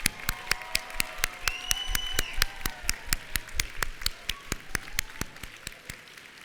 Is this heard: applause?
yes